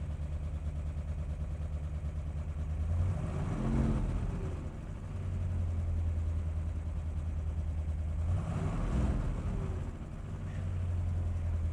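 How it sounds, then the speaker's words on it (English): A 1971 Corvette LS6 big-block V8 with solid lifters idles with a steady low rumble, then revs up twice, each blip swelling loud and dropping back to idle, heard close with no talk. "I'm going to rev it up for you."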